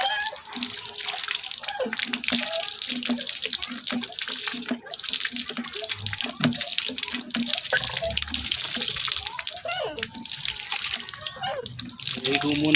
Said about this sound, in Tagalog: Tapos hugasan natin dito sa poso.